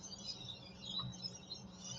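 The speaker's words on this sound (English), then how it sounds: "Can you hear the birds out there?" Birds call faintly outdoors on a cool morning, with small chirps and tweets over a low background hum, heard from a distance through an opened door.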